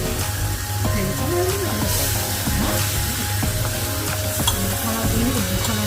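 Fried fish pieces go into a hot pan for a fish-head potato curry, bringing a continuous close sizzle with scraping stir sounds over it and a faint musical background underneath.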